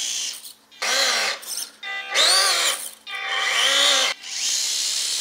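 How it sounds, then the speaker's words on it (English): Small electric motor and ESC in a 1:18 ROC Hobby FJ80 Land Cruiser RC car with its body removed, whining up and down in pitch through three close bursts separated by short pauses. "So yes, we can hear the ESC"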